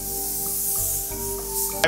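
A spray gun lays a custom mixed base coat onto motorcycle parts as a steady, close hiss over a faint mechanical hum. It ends in a short louder burst, with no talking.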